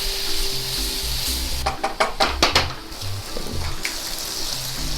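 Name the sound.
soy sauce and sugar caramelizing in pan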